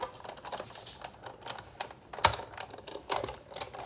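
A die cutting machine feeds a paper tag through for a Christmas junk journal, producing a run of light clicking and ratcheting taps close by, with a couple of sharper knocks along the way.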